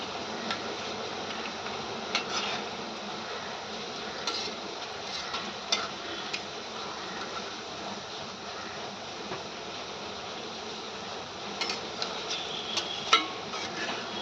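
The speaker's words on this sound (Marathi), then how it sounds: "अशा प्रकारे मी आता सगळी भजी पलटून घेतली आहे" Colocasia leaf fritters fry in hot oil in a pan as they are flipped, giving a steady soft sizzle broken by faint clicks and light taps. No one speaks.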